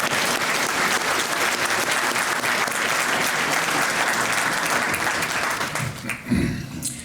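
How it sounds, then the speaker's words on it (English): Steady, dense applause from a large awards-ceremony crowd for distinguished guests, clapping continuously before tapering off near the end. "How about a round of applause for our distinguished guests?"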